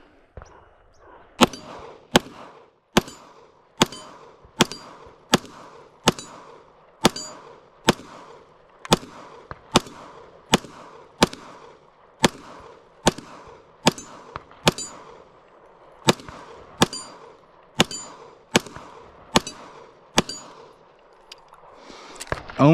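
Smith & Wesson M&P pistol shots ringing off a steel target, about twenty loud sharp cracks each followed by a metallic clang, fired at an even, steady pace.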